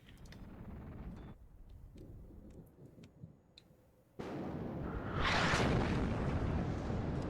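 Counter-battery artillery shells land in the Cold War strategy game WARNO, with a deep rumbling bombardment that cuts off abruptly, then a loud surging blast and roar of impacts at close range, no voices present.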